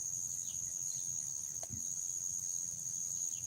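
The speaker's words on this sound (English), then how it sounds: "you can hear the cicadas possibly as they're beginning to multiply in their numbers" Cicadas or similar insects on a calm evening, a faint steady high-pitched drone holding constant in the distance, with low rumble beneath and no voices.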